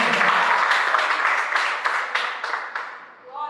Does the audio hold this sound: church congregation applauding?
yes